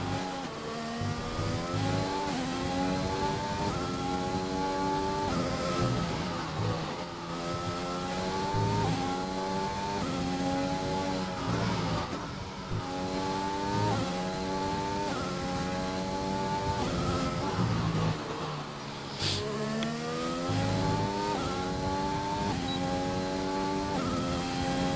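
A race car engine in a racing game on its out lap at the Russia round, revving up through the gears again and again with rising pitch and sharp shift drops, loud and steady and mostly alone for the full stretch.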